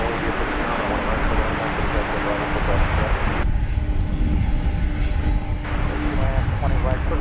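An MD-11 jet aircraft moves along at DFW Airport, its engines giving a steady, fairly loud roar that holds throughout with only slight swells.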